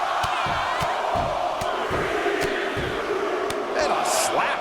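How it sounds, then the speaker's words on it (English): An arena crowd in the WWE 2K24 video game chants a countdown during a Survivor Series War Games match, a loud rhythmic roar of many voices with regular accented beats and a commentator speaking over it. "The crowd is counting it down."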